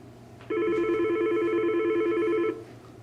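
An office phone's main line rings in a single steady electronic tone burst lasting about two seconds, clear and moderately close with no talking.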